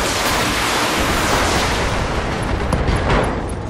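A precision shot striking a Thunderbolt mech in BattleTech, a loud, sustained roaring blast of broadband noise that swells and rumbles for several seconds with small crackling bursts near the end.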